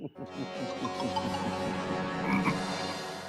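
A steady run of loud, close frog croaks, repeating in quick rhythmic pulses for several seconds with no pause.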